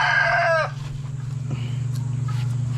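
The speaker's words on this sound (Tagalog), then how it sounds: "Ito yung isang manok natin, oh." A farmyard rooster crows once, loud and close, for about half a second, then gives way to a low steady hum with no talk.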